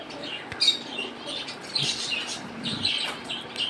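Giribaz Madras pigeons shuffle in their loft, giving scattered short chirps, light scratchy rustles and brief wing flutters at close range, with no voices.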